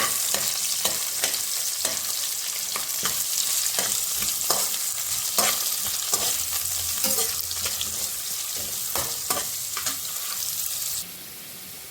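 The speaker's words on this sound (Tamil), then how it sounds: "இப்போ இதில் கட் பண்ணி வச்சுருக்க ஆனியன் ஆட் பண்ணிக்கலாம். நல்லா வதக்கிக்கலாம்." Sliced onions sautéing in a hot pan, with a steady bright sizzle and repeated scraping stirs of a spatula, close and continuous.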